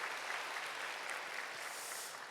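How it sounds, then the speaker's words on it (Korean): Soft, continuous applause from a church congregation during a young adults' worship service welcoming newcomers with flowers, a distant even wash of clapping that eases off slightly at the end. "인사하실 때 뜨거운 환영과 박수를 부탁드립니다."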